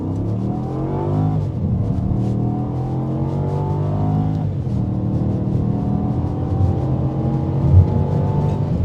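A Volvo S80 with a V8 engine accelerating hard at full throttle, a loud, close engine note rising steeply through two gears with a brief dip at each shift, heard from inside the car without talk.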